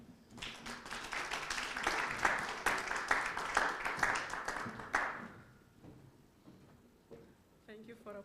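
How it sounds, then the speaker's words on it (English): Conference audience in a hotel ballroom applauding: scattered, moderately loud clapping from a modest crowd lasting several seconds, then thinning out into faint handling noises. "Thank you for applauding me before even giving the speech"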